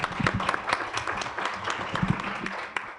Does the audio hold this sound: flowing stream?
no